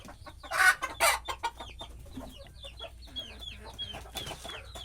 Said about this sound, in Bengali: এটা আমার ছোট্ট একটি মুরগির খামার